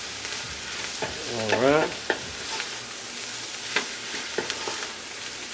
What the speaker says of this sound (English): I'm going to cook down the mushroom for about 5 or so minutes.